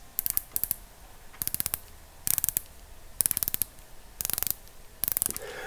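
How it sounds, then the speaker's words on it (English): The unidirectional 120-click GMT bezel on a San Martin SN005-G watch turns in six quick bursts of crisp, rapid ratcheting clicks, heard close up and alone with short pauses between turns. "we have a unidirectional GMT bezel with 120 clicks. So let's hear these clicks"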